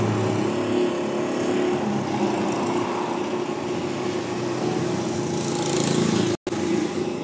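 A pressure washer running at high pressure, a steady droning motor hum with a constant spray hiss, close and unbroken apart from a brief cutout near the end.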